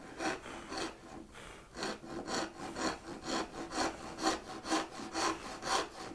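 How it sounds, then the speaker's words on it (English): A hand saw cutting wood for half-blind dovetails, making slow, light, rhythmic rasping strokes, about a dozen even back-and-forth pulls, quiet and close with no talking. "I'm going very, very slowly and very, very lightly, taking all the pressure off the saw. And there, I've cut from that corner to that corner."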